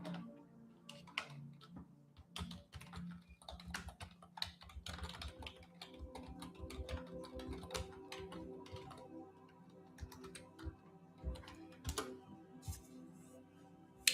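Someone types on a computer keyboard, a quiet, close run of irregular key clicks with brief pauses between bursts.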